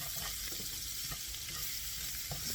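Salted butter sizzles steadily in a skillet, a continuous close crackling fry with faint stirring scrapes and no voices.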